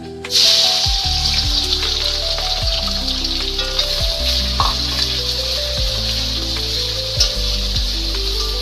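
Loud, steady sizzling of onions frying in hot oil, with occasional crackles and stirring sounds, no voices.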